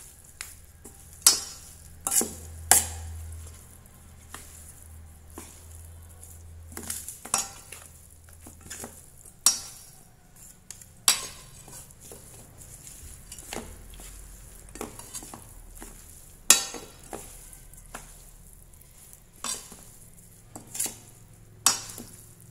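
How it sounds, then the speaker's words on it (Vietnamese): A glass noodle and vegetable mixture dressed with soy sauce being stirred and tossed in a dish, with soft rustling between sharp, irregular clinks of utensils against the bowl and no voices. "Mình trộn đều cái hỗn hợp này lên các bạn ạ."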